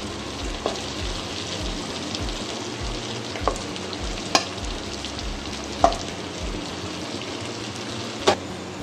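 Brown basmati rice being stir-fried in a hot pan, a steady close sizzle and crackle with occasional sharp clinks of a utensil against the pan, no voices.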